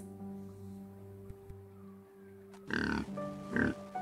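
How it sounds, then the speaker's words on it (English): A pig gives two loud, close grunting oinks near the end, each a short rough burst, after a stretch of sustained musical backing. "pig"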